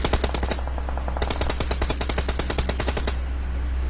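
Machine gun fire in a video game: rapid sustained bursts of automatic shots, loud and close, with a brief pause before the firing resumes.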